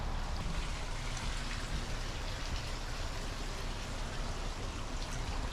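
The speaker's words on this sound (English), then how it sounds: "The water, at least the sound of the water, makes it feel a little bit cooler" Steady running water in a garden center greenhouse on a hot day, a continuous broadband rushing wash that stays even and close throughout with no talk.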